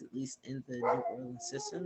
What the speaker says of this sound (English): I don't know if you can hear this dog in the background.